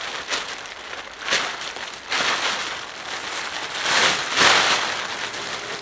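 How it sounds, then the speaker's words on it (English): A brand-new plastic tarp, 12 feet long, is gathered up at one end for a ground shelter, giving a loud, close, continuous crinkling rustle that swells and eases in waves. "I'm going to gather one end. This is a brand new tarp."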